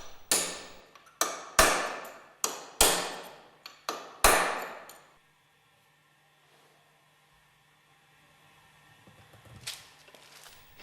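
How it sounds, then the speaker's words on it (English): A mandrel is hammered to drive an angular contact ball bearing out of a bearing bush in a Westfalia purifier, giving six or seven sharp metallic ringing strikes in quick succession, then near silence with a faint clink at the end. "Drive the angular contact ball bearing out of the bearing bush with the aid of a mandrel."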